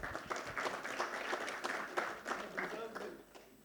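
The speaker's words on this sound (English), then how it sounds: "thank you for clapping for the Honorable Minister" An audience at an aviation and air cargo summit claps for a minister, with moderate sustained applause mixed with a speaker's voice.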